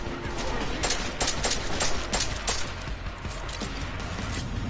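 Gunfire in a first-person shooter video game, a rapid burst of sharp shots followed by a few scattered single reports, loud and close, alone without talk.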